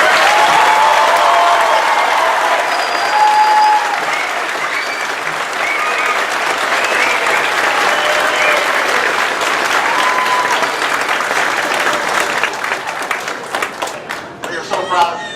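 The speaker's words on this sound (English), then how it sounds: "Would you please join me with a round of applause for our graduates?" A large graduation ceremony crowd breaks into loud, sustained applause for the graduates, with a few whistles and voices cheering through it. The clapping stays full for a long stretch, then thins and scatters toward the end.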